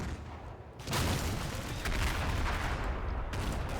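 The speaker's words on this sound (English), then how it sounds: "machine gun fire, 37mm cannon fire, and of course everybody's favourite, the 81mm mortars" Combat Mission battle in Italy with machine gun and 37mm cannon fire, a dense, continuous crackle of gunfire that jumps louder after the first second and keeps rattling with heavy booming bursts throughout.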